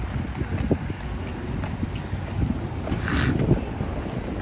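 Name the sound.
cold wind by the ocean at Port Campbell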